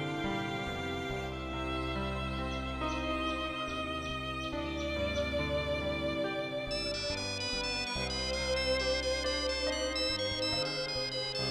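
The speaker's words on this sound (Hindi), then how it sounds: "घर से फोन आया है।" A melodic electronic ringtone plays loudly and continuously, its repeating musical pattern filling the whole stretch without any talk.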